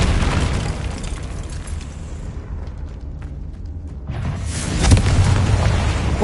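Booming explosions from the Confringo spell in the video game Hogwarts Legacy, heavy low rumbling blasts, the loudest near the end, with brief quieter gaps between, loud and close.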